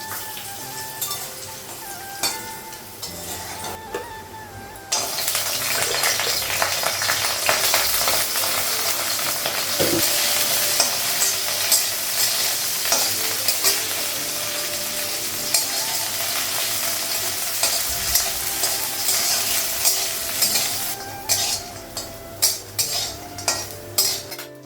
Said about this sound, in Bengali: এগুলো হচ্ছে পনিরটা ভাজা করছি